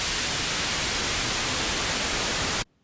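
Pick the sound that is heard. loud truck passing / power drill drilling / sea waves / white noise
white noise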